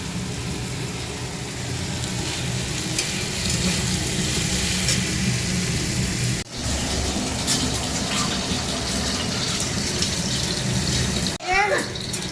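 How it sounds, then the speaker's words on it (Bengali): Water pours and splashes steadily into a curry pan holding fried onion, chilli and fish heads, a continuous close rushing sound with a brief break midway and a clatter near the end. "জল দিয়ে দিয়েছি আর এই মাছটা দিয়ে দিয়েছি"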